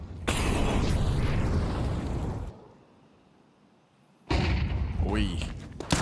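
A flashbang grenade goes off in Counter-Strike during a BLAST Austin Major match, a loud close burst with a long roaring wash that cuts out, then another sharp blast with ringing tones and commentator talk over the game audio.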